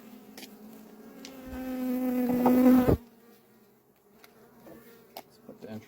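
Honeybees from a swarm being captured with a bee vacuum on Vancouver Island buzz loudly and close, swelling to a dense drone before cutting off abruptly, leaving faint scattered buzzing and small knocks.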